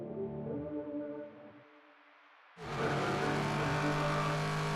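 LMP3 prototype race cars at Snetterton, engines droning loudly, fading briefly, then surging back in a sudden full-throttle roar as the pack accelerates.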